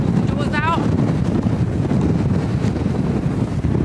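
Gale force wind gusting against a LANSHAN 2 budget lightweight hiking tent in bad weather, a constant loud roaring buffet with rushing noise throughout and a brief creak or squeak near the start.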